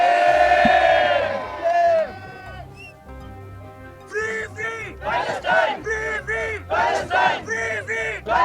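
A protest crowd at D-Chowk in Islamabad chants slogans in loud rhythmic bursts, a single voice leading before the mass of voices answers in repeated shouted phrases.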